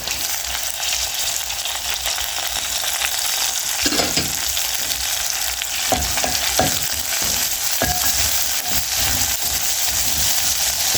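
Crushed garlic sizzles steadily in hot oil for Kenyan pilau, a loud continuous fry broken by several scraping stirs of a utensil against the pan.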